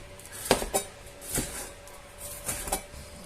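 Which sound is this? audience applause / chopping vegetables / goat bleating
chopping vegetables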